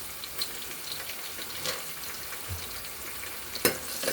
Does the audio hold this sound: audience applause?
no